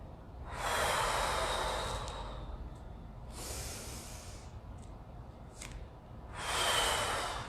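Heavy, exaggerated breaths during prana yoga practice come as three long airy inhales and exhales, close and alone, separated by quiet pauses.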